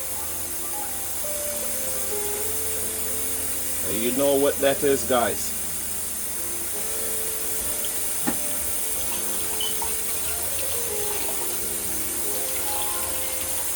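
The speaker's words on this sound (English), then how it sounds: "this is the coconut milk. I'm gonna go ahead and pour it inside a pot." Coconut milk pours and splashes into a pot for about a second, surrounded by a steady hiss, with a person speaking.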